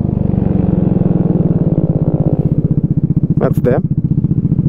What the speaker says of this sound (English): your exhaust is loud, man